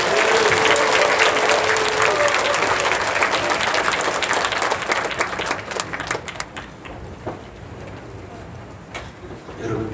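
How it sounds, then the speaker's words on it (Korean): A church congregation applauds to welcome a pastor, a loud, dense burst of clapping that thins into scattered claps and fades after about six seconds. "박수로 모십니다."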